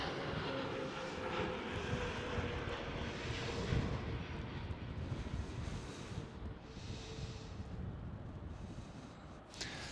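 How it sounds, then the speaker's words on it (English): A Transavia Airbus A321neo airliner at Schiphol airport produces a distant, steady jet roar mixed with wind buffeting on the microphone, rising and fading slightly without voices. "Transavia A321NEO"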